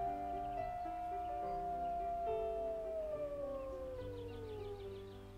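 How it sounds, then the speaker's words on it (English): A single wolf holds a long, sustained howl that slowly slides downward in pitch, faint and distant over a low rumbling background, in Yellowstone. "I howled to summon them."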